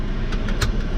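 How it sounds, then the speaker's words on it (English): A 2020 Volvo V60 on the road gives a brief, steady engine and road rumble heard from inside the cabin, with no voices. "now we're driving the V60"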